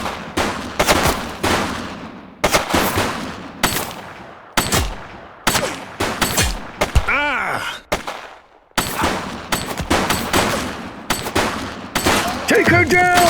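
Gunfire in the video game The Precinct: rapid bursts of shots crack out in clustered volleys with short silent gaps between, loud and close, with brief pained groans and shouted voices among them.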